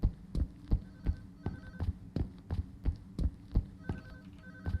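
A ringing telephone in a video game, repeated short rhythmic pulses of bell-like tone at a steady pace, fairly close and clear with no talking.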